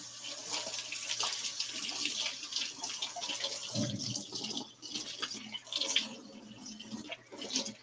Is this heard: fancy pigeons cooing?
no